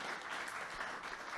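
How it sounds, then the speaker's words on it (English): Audience applauding speakers at the close of a healthcare sustainability conference session, a steady dense wash of clapping holding level for the whole stretch with no voices over it. "Let's give a round of applause for our awesome speakers."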